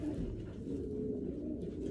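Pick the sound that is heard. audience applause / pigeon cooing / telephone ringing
pigeon cooing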